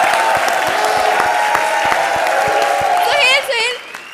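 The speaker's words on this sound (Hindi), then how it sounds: "तो भी ठोको ताली" A studio audience at a comedy show applauds in a dense, loud, sustained wave of clapping and cheering, with a few whoops rising before the clapping fades out near the end.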